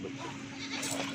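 A goat bleats at a goat farm where Rajanpuri goats and kids are kept, a short nasal cry close by amid steady background noise and someone talking.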